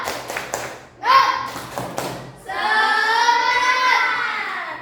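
A school class does a 'tepuk semangat' routine, starting with a few quick claps and taps, then young voices chanting loudly together in a sustained, rhythmic call.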